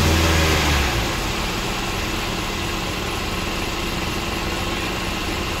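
A 2013 Kia Optima with a GDI engine idles steadily with a low, even hum and some vibration, following a brief louder rev at the start.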